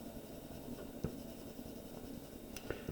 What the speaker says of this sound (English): I could use the colored pencil, and I just created with a darker green version of the colored